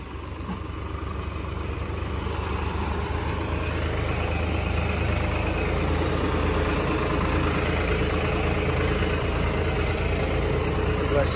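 A John Deere tractor engine runs steadily while towing another tractor out of a rut, a continuous loud diesel drone with a rough low rumble throughout.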